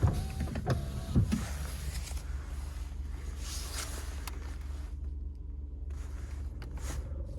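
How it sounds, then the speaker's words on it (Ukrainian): Electric window motors of a Volkswagen Golf 4 run inside the car, a steady close whir with a few clunks early on and a brief stop near the middle before the motor hum resumes. "Склопідйомники працюють."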